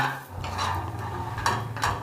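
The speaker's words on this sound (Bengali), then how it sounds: "প্রথমে চিনেবাদাম জোয়ান ভেজে পেস্ট বানিয়ে নেব" Peanuts dry-frying in a pan, with utensil scraping and stirring clatter, a few louder scrapes standing out over a steady low background hum.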